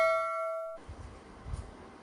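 A bell ding sound effect rings out as a single bright, clear tone that fades within a second. It cuts to a low, muffled rumble.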